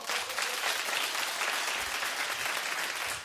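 A studio audience at a daytime talk show claps in a soft, continuous wash of applause with no voices over it.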